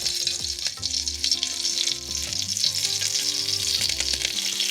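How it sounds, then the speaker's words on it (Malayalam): Mustard seeds and curry leaves crackle and sizzle in hot oil for a Kerala duck curry, a steady bright hiss with scattered pops close to the pan, no voices. "ഇതിലേക്ക് ഞാനൊരു 3/4 ടീസ്പൂൺ കടുകിടുകയാണ്"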